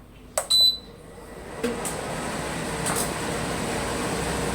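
A Midea YPH 09C portable 9000 BTU air conditioner beeps twice as it switches on, then settles into a steady, close fan and compressor hum that runs alone to the end.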